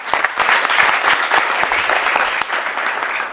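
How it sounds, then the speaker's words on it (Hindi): An audience claps steadily to welcome a short devotional play, a dense, even round of applause from a crowd that continues throughout. "पहले सब तालियां बजा के इसका स्वागत करो।"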